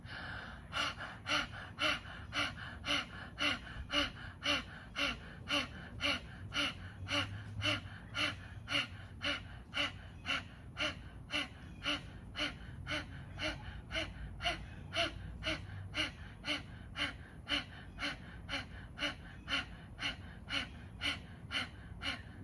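Rapid rhythmic breathing during a yoga class, with quick forceful inhales through the nose and mouth and short exhales out through the mouth repeating steadily at close range, without talk.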